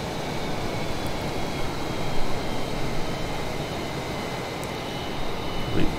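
F/A-18 jet flying low over the Colorado Rockies with its throttle eased back, heard as a steady, loud broadband roar with slight swells and no voices.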